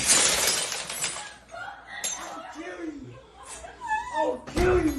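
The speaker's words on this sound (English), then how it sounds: "Jimmy, just broke the glass." Glass shatters during a heated confrontation, with a sharp breaking crash at the start and another burst near the end, amid agitated shouting voices.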